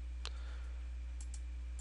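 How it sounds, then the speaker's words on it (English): Sharp computer mouse clicks, one near the start and a couple more a second later, quiet and close over a steady low hum. "Right click on it and hit install"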